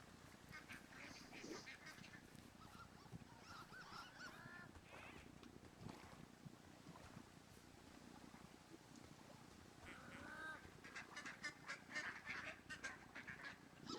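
A whole flock of geese honks in the video game Firewatch, the calls faint and distant over a low ambient rumble and growing busier toward the end, with no talking.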